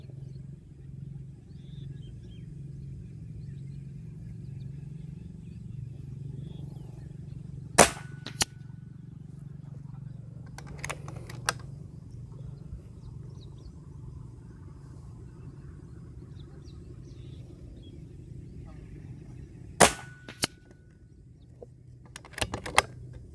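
Kral Puncher Nemesis air rifle fired a few times outdoors, sharp isolated cracks spaced seconds apart over a low steady rumble of background noise.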